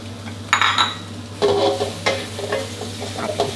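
Crispy pork with sliced green onions stir-fried in a wok: loud scraping strokes of the spatula come in bursts over a constant low sizzle, with occasional metallic clinks.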